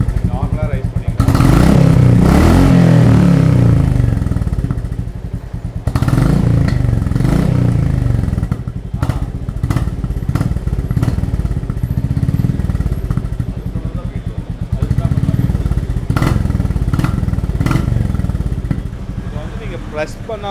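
A Royal Enfield Classic 350 Reborn with its stock silencer idles with a low thumping beat and revs up in several loud bursts, while someone talks over the engine.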